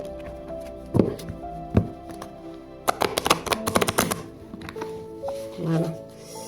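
Tarot-style cards being mixed by hand before a reading, with soft shuffling thumps and bursts of riffling clatter, fairly close, while a voice talks over them at times.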